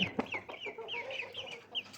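A rooster clucks nearby in a rapid, continuous string of short clucks and squawks with no talking.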